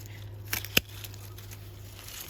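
A single crisp snip of pruning shears through a dahlia stem on damaged garden plants, a brief close click with a faint rustle of foliage just before it, against a steady low hum.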